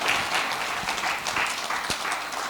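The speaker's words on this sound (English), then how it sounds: "Another round of applause" Applause from a conference audience as insurance panelists leave the stage, a steady dense patter of many hands clapping at moderate level with no voices over it.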